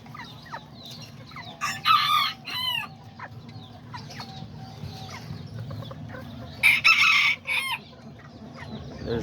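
Rooster crowing twice, loud and close, among clucking chickens in a backyard coop of small Azteca and Serama birds, with softer clucks and chirps filling the gaps.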